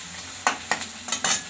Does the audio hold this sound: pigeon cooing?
no